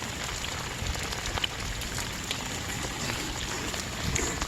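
Heavy rain falls steadily during an outdoor meal of pork belly grilled on a marble grill plate, a dense, even hiss of downpour that holds throughout without pauses.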